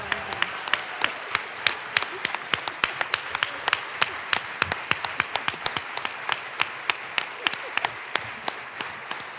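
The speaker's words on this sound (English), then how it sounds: "Let's give them a round of applause for being human and wonderful." Scattered, distinct hand claps ring out in the Colorado House chamber during a legislative session, a sparse round of applause with sharp individual claps spread across the room.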